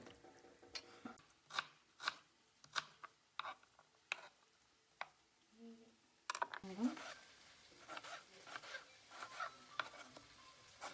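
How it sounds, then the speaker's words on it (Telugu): Goat head meat is cut into small pieces with sharp, rhythmic chopping taps, close and fairly loud, around a dozen strikes with a short pause midway; a voice speaks quietly underneath. "ఇదంతా చిన్న చిన్న ముక్కలుగా కట్ చేసుకుందాం"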